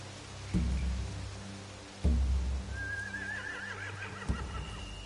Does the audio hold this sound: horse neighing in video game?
yes